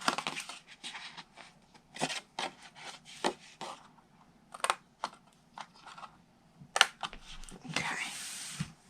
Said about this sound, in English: now we can just cut everything else off that's on the top